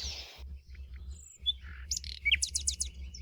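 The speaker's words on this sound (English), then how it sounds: "So some nice quiet birds." Quiet forest birds give a scatter of soft, high chirps and tweets that grow busier toward the end, over a steady low rumble of background ambience.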